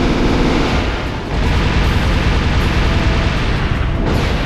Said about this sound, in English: An explosion that blows a mass amount of rocks and volcanic ash up into the air.